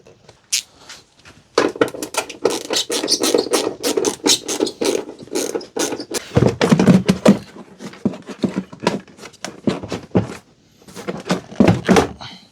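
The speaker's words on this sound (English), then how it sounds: "We have to take this out, this airbox." Hand tools work on the airbox of a BMW E46 in an engine bay: quick ratcheting clicks, rattles and dull thunks of plastic coming free, in close bursts separated by short pauses.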